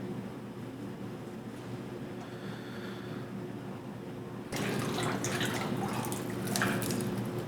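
A gun part being dipped into a water tank for a carbon fibre hydro dipping wrap, heard as a steady watery wash that swells louder and splashier partway through, with drips and sloshing close by.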